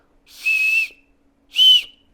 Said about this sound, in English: you can get that pretty loud with the whistle thing